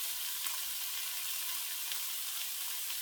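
Beef olives fry in garlic-infused oil with a steady, close hiss and sizzle, broken by occasional soft pops and spits.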